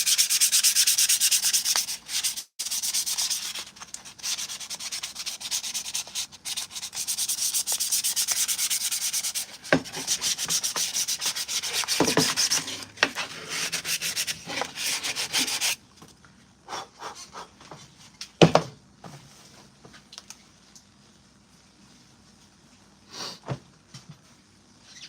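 Hand sanding of a 3D-printed Mandalorian costume part, a dense scratchy rubbing that runs steadily for about fifteen seconds, then thins to a few sparse scrapes and taps.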